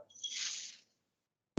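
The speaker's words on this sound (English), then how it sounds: "And then add some water." Water pours into a plastic bag of textured vegetable protein chunks in a brief soft splashing trickle lasting under a second, followed by silence and a short thump at the end.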